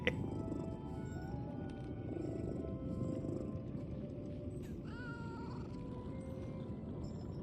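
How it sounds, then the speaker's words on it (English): A petted cat in a video game, a steady low purring rumble throughout, with higher meowing or chirping calls layered on top, fairly close and continuous. "You can pet the cat."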